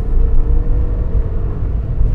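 A Ford Fiesta hatchback's engine gives a steady, loud, close low rumble throughout, holding an even droning tone as the car pulls under throttle.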